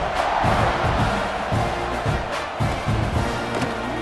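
Stadium crowd in the EA College Football 26 video game, a dense, loud, continuous roar of many voices with rising and falling swells and rumbling thumps underneath.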